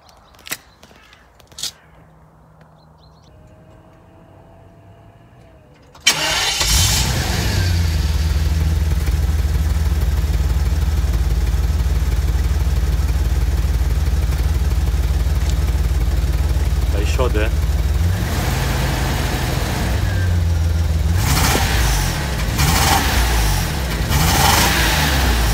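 BMW 850i E31 V12 with an aftermarket exhaust starts after a few quiet knocks, then settles into a loud, steady deep idle with brief throttle blips near the end, heard close up.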